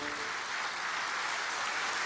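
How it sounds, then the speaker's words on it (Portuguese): Audience applause fills a church service, a steady, dense wash of many hands clapping throughout with no talk over it. "Aplauda o Senhor, olha que maravilha!"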